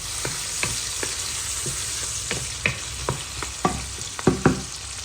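Onions frying in a pan with frozen ginger-garlic paste cubes, a steady close sizzle with scattered sharp crackles and spatula scrapes, growing busier toward the end, no voices.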